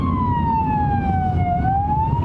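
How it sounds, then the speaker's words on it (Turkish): An ambulance siren wails steadily as the vehicle passes, its pitch gliding down and then rising again over continuous traffic rumble, loud and close throughout. "Ama ambulans ona gidiyor olmasın?"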